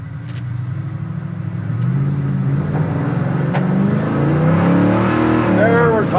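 A 1967 Chevrolet Chevelle Super Sport engine warms up with a steady, rough running note and slight irregular spits, close and fairly loud throughout, with a voice talking over it.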